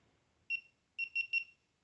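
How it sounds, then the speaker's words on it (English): A GoPro Hero 3 action camera gives a single short electronic beep followed by a quick run of three beeps, clear and close against near silence. "You hit film, it beeps for you"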